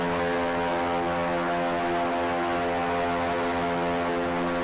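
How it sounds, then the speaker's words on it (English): A steady, loud mechanical drone with strong tonal hum from test rotor blades of the Ingenuity Mars helicopter spinning at high speed indoors, cable-powered, continuous throughout with no talking. "we're trying to see if we could even get those blades to spin fast enough and lift that helicopter"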